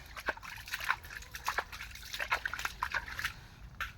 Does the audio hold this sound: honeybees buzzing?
no